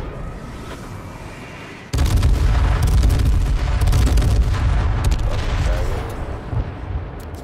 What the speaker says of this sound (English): Watch out, I threw an airstrike.